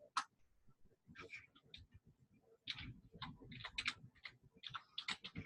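Keys tapped on a computer keyboard, a close rapid patter of light clicks in short bursts and a quicker run, with a voice talking quietly underneath.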